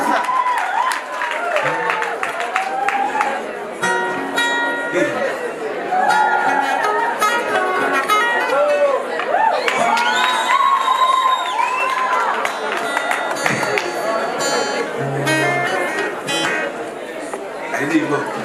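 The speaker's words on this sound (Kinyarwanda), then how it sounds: "amashyi menshi cyane" An audience at a live singing event applauds and cheers, a dense crowd of clapping and shouting mixed with chatter and a voice over a speaker system, sustained and fairly loud throughout.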